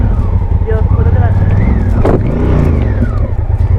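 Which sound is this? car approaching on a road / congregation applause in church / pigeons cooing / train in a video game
car approaching on a road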